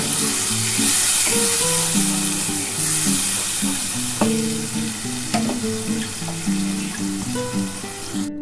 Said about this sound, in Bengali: এই যে মশলা বেটেছিলাম এই জলটা আমি দিয়ে দিলাম এর মধ্যে